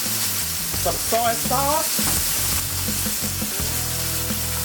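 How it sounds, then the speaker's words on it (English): Pork chops frying in a pan with pimento seed, a loud continuous sizzle with stirring, while a person talks over it. "I want my pimento seed to fry up with the meat and give it extra flavor"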